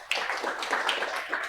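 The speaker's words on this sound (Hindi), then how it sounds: "एक बार तालियां हो जाए।" Applause in a classroom during an accounting revision lesson, a short spell of light, scattered hand claps from a group, fairly close and lasting barely more than a second with no talk.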